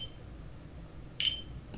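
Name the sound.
metronome beeping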